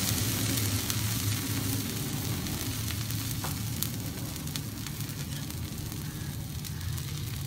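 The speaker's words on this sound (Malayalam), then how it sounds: "ഇപ്പോൾ ദോശ ചട്ടി നല്ലോണം ചൂടായിട്ടുണ്ട്. ഇതിൽ കുറച്ച് നേരം വെള്ളം തളിച്ചെടുക്കാം." Water sprinkled onto a very hot dosa pan sizzles in a steady, even hiss with a low hum beneath it, fairly quiet and close, with no talking.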